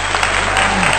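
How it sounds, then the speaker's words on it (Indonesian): An audience claps for a speaker giving a talk on bringing in good fortune, a brief steady burst of applause at close range under a constant low hum, with no talk over it. "Tepuk tangan."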